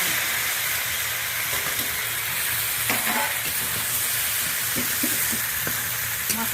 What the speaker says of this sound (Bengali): ভেজে রাখা আলু আর ভেজে রাখা ঝিঙাটা ভালো করে আরও 2 মিনিট কষিয়ে নিচ্ছি